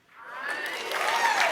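Live crowd at the TwitchCon 2025 keynote bursting into applause and cheers, swelling quickly from silence to a full, sustained roar of clapping and whoops.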